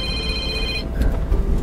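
A phone rings with a bright electronic tone inside a car being driven down a quiet side alley. The ring lasts under a second and then cuts off abruptly as the call is answered, leaving low background rumble.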